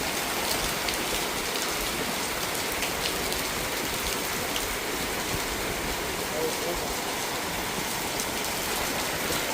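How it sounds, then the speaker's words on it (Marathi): Monsoon rain pours steadily outside a roadside shop, making a dense, even hiss of drops striking surfaces that holds unbroken and close for the whole stretch. "आम्ही एका दुकानामध्ये थांबलो माहिती आहे का, पाऊस यायला लागला"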